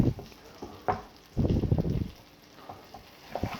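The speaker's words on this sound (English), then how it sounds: "So now you hear the onions and the garlic pretty much frying up in the pan." Onions and garlic frying in a pan while steak and guacamole are prepared, a low, uneven sizzle with a louder crackling surge midway and softer bursts around it, with no talking.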